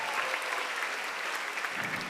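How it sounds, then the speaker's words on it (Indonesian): An audience at a stand-up comedy show in Bali, Indonesia, claps in a dense, steady burst of applause that fills the whole moment, close and lively, with no talking over it. "Tepuk tangan dulu dong"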